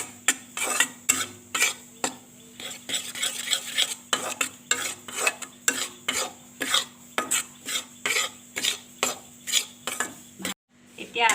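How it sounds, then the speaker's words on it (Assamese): Wheat flour roasting in ghee is stirred with a metal spoon in a pan, producing steady rhythmic scraping strokes about once a second over a soft sizzle, close and clear, with no talking. "ঘিউ 2 চামুচ দিলোঁ, দি পেলাই আকৌ ভাজিব।"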